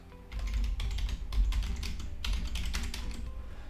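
Someone types a username on a computer keyboard, a quick close run of key clicks in an irregular rhythm with a few slightly heavier taps.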